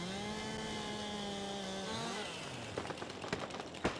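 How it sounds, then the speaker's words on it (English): A chainsaw runs in Farming Simulator 22 on the Angel Mountain map as it cuts a tree: a steady buzzing engine drone sags in pitch midway, then gives way to scattered crackling snaps, with no talking. "Just get the chainsaw out."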